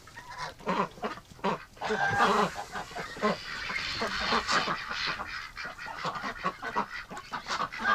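Wintering ducks and geese kept in extreme winter cold call loudly and close by, with overlapping honks and quacks in a busy, continuous chorus.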